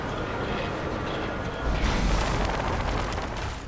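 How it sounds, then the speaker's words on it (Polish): Clothing rubs and scrapes against a microphone during a Crysis 3 gameplay recording, a close, dense rustling that swells into heavier muffled thumps midway, with no talking. "ten dźwięk, który właśnie usłyszeliście, to... cholerne ucieranie się o ciuchy"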